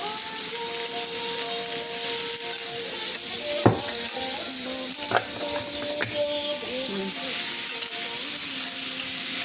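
Onion sizzles loudly in hot oil in a pan while wheat rava upma is being made, a continuous close frying hiss with occasional stirring clatter.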